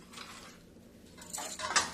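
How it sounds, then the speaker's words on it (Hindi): Metal pots, plates and utensils clatter and scrape as ground pickle spices are moved into a larger vessel in a home kitchen, soft at first and then a few louder close clinks. "अब एक बड़ी बर्तन में मैं डाल देती हूँ।"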